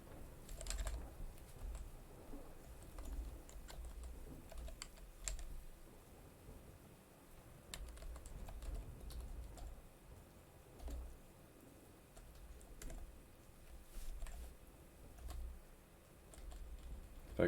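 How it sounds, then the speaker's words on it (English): Computer keyboard typing, a steady run of light clicks and key taps spread across the whole stretch at close range, with no talking over it. "If I can type right."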